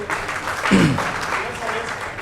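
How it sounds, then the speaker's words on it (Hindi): Audience applause at an awards event with poetry recitation, a steady broadband patter of clapping throughout, with a brief vocal sound or voice partly over it. "और ये ताली बजा दीजिए"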